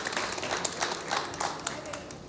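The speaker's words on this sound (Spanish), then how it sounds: "Un aplauso de bienvenida." Welcome applause from a church congregation, steady clapping from a crowd for a couple of seconds, moderately loud, with voices mixed in.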